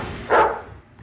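A sheepdog pup gives a single short, close bark that stands out from quiet background noise.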